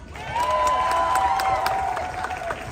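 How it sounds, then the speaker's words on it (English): A crowd at a gathering claps and cheers, a steady burst of applause with a sustained whistle or whoop rising above it, fairly loud and close. "Can we give them a round of applause?"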